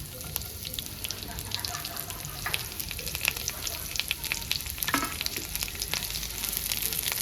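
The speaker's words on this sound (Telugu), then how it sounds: "ఇప్పుడు కట్ చేసుకున్న ఉల్లిగడ్డ వేసుకుంటుంటా." Chopped onions fry in oil for a bitter gourd (kakarakaya) fry, producing a dense, continuous crackling sizzle with scattered spatters and a few stirring scrapes, steady and close throughout.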